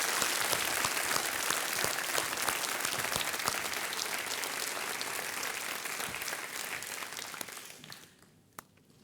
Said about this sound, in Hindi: एक बार तालियां बजा दीजिए हमारे कंटेस्टेंट्स के लिए।